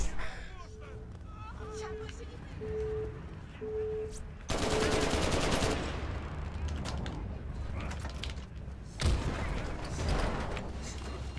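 Gunfire in the video game Crackdown, with loud bursts of rapid automatic shots over game mechanisms and beeping tones, the heaviest volleys coming in two dense stretches, while a player talks.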